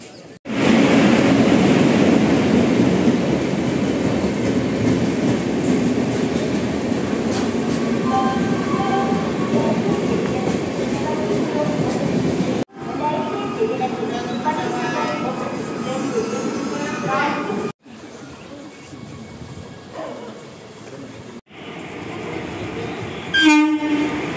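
The Kakinada Express passenger train runs loud and close with a heavy, steady rumble and rattle. A horn sounds near the end, the sound breaks off abruptly in places, and voices are faintly heard.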